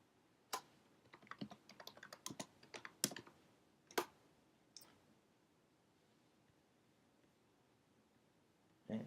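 Bursts of typing on a computer keyboard, a quick cluster of clicks and key taps in the first few seconds, a couple more isolated presses, then near silence before one last tap, close and fairly faint.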